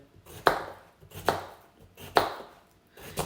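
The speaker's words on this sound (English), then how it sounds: "I'm going to chop it that way and just into small pieces" A knife chops vegetables rhythmically on a board, three sharp crisp strikes about a second apart with quiet gaps between, close by and with no talking.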